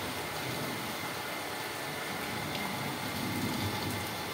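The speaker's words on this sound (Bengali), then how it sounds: "প্রচুর বৃষ্টি হচ্ছে" Heavy rain falls steadily outside a home, a dense, even hiss of drops on surfaces that stays constant and fairly soft, with no voices over it.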